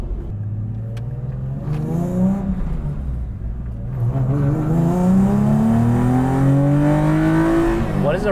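Flat-six engine in a Subaru GC8 swapped with a 3.6-litre unit, revving up in one long rising sweep, loud and close, with people talking over it.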